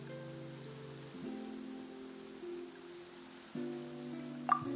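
Soft, steady rainfall in the Genshin Impact video game hisses quietly under sustained, gentle musical tones, with no speech and a brief louder patter near the end.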